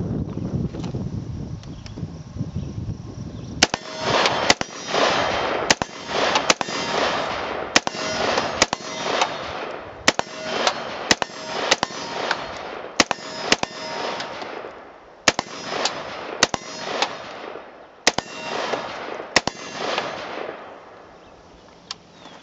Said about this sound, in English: So let's just commence to some shooting.